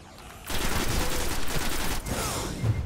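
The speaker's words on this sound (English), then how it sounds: "Why is somebody shooting me from over there?" Burst of rapid gunfire from a Destiny firefight, loud and sustained automatic shooting with dense crackling volleys that briefly dip before continuing.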